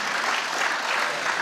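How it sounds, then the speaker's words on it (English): Dense, steady audience applause at a music showcase performance, loud and continuous with no pauses or voices. "round of applause for Michael"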